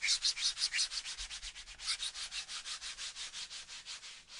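Traditional Japanese baren rubbed over a print, a brisk series of rhythmic scratchy strokes, about three per second, close and fairly quiet.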